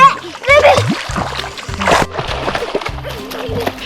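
Water splashing and sloshing as people play in fresh water in the Brazilian Amazon, with scattered voices and children's chatter mixed in, close and lively throughout.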